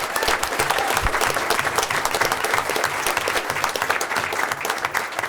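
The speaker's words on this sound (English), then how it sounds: "Let's give him a round of applause for that." Dense, loud applause from a board of education meeting audience honoring wrestling coach Polk for 500 victories, continuous close clapping filling the room without a break.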